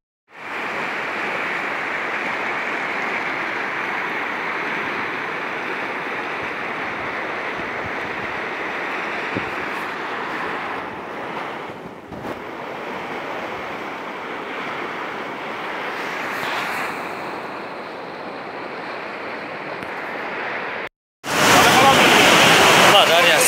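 A rushing mudflow and floodwater surge through Kadamjay district in Batken region near a shopping center, making a steady, loud, broadband roar that cuts off briefly near the end and returns even harsher.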